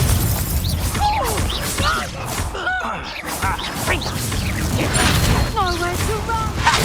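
Confringo fire spell blasts in Hogwarts Legacy, a series of sharp bursts and crashes with whooshes, moderately loud, overlapped by combat voices and character shouts.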